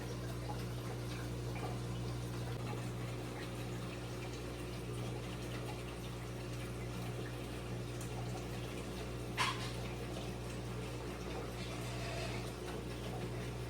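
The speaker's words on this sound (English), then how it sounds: "Started draining the aquarium." Water draining out of an aquarium in a fish room, heard as a steady, faint flowing hiss over a low mechanical hum, continuous throughout with no talking.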